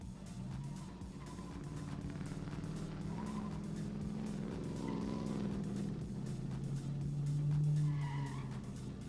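A C6 Corvette and an E36 drifting in a head-to-head battle, engines roaring and revving while tires squeal in long sustained screeches, steady and moderately distant for about nine seconds.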